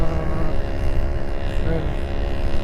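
An old two-stroke classic motorcycle engine runs loudly and close by, giving a steady buzzing drone with a dense, rapid pulse that holds for the whole few seconds with no break.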